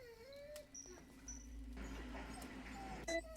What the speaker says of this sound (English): I swear I couldn't always hear the dog whining from behind the door, but now he's whining.